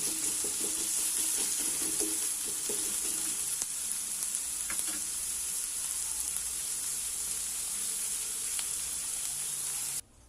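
Vegetables for street-style Chinese noodles stir-fry on a high flame with a loud, constant sizzle, plus a few clicks of stirring early on, then it cuts off at the end.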